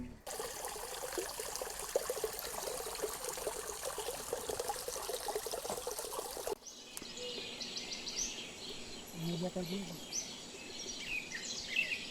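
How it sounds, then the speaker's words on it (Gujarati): Water trickles and pours continuously at the Zariya Mahadev temple, a faint, steady splashing joined by scattered bird calls, with the background shifting abruptly partway through. "અહીંયા પાણી અવિરત પડે જ છે"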